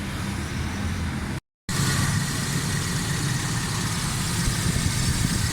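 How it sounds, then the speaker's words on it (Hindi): A Suzuki Alto 1000cc engine, tuned to cure misfiring, runs steadily at idle, a continuous low rumble with a brief dropout partway through, no talking. "गाड़ी स्टार्ट है, बिल्कुल ज़बरदस्त साउंड है, मिसिंग ख़त्म है।"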